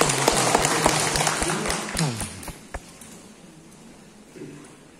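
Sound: applause from the audience

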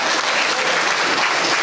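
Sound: audience applause at folk song festival

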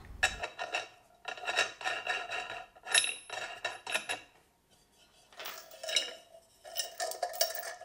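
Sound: sliding washer and nut onto a threaded rod

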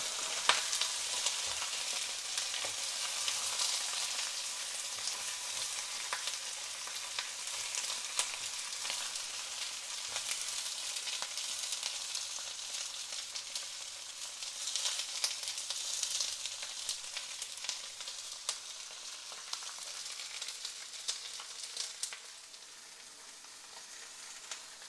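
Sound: fish head frying with ginger in a wok

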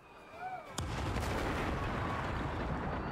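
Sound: explosions in the video game Gangs of Sherwood

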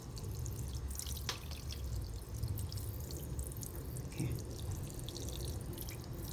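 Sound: watering succulent pots with a shower-head tap

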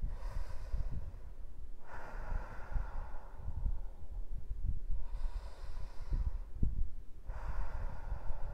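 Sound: person breathing in and out for meditation

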